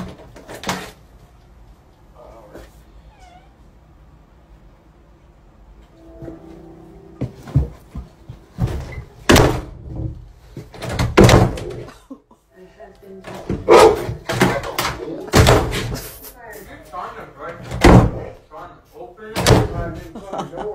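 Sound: door slamming shut, pushed by a dog

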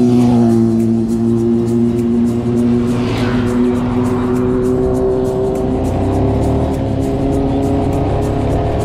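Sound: motorbike passing by

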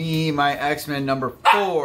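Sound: dog barking

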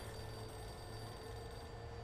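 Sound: telephone ringing in the video game Alan Wake

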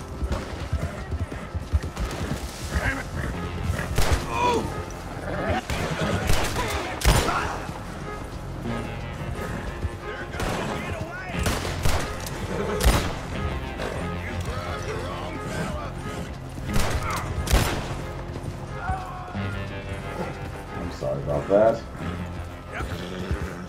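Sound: gunfire from the video game Red Dead Redemption 2

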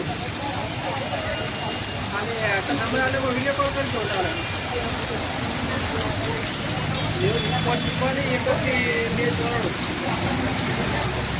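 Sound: heavy rain falling in Patan

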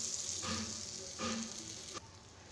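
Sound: butter melting and sizzling in a heating pan

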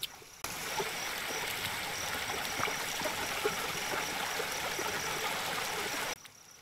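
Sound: waterfall flowing in Zoo Simulator video game

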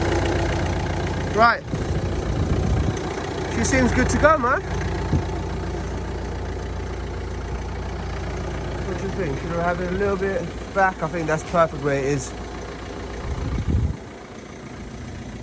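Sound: Ford car engine idling

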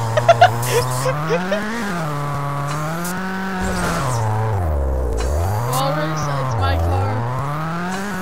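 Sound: car driving in the video game Garry's Mod

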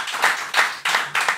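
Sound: audience clapping in podcast studio

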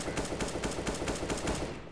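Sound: gunfire in the video game CS:GO

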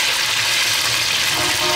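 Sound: climbing perch frying in oil

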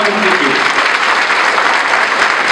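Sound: audience applause

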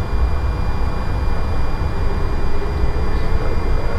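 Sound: Lion Air A330-900 engines during takeoff roll

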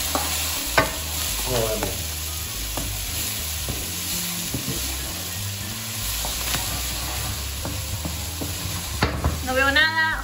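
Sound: onion frying in olive oil

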